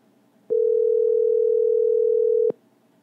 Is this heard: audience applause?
no